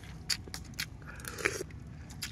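People eating sabaw and kinilaw, with close, sporadic bites, crunches and clinks of utensils spaced irregularly over quiet room noise, with no clear speech.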